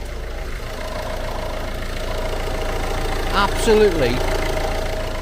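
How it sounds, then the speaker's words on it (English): A Peugeot DV6 diesel engine idles steadily with a low, even rumble throughout, while a person speaks briefly over it and a short squeaky sound rises near the end. "now with that car ticking over, I'm going to let it run, let the engine get up to temperature"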